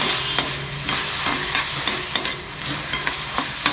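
Tomatoes sautéing with turmeric in a pan for manathakkali pachadi: a steady sizzle broken by regular scraping strokes of a stirring spoon, close and moderately loud.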